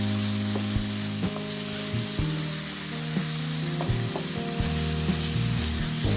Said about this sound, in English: once you add your 2 tablespoons of tomato paste, all you want to do is go ahead and work it into your meat